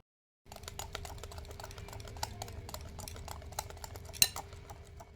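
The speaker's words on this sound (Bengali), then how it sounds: "এই দুধটাকে অল্প অল্প দেব আর ভালো করে মিশিয়ে নেব" Milk is mixed into gokul pithe batter in a bowl, with a steady soft scraping and a quiet clink of a utensil against the bowl, close and faint, with no speech.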